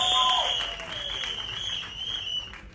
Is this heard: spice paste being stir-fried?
no